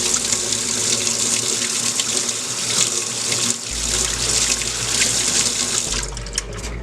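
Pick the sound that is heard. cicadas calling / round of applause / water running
water running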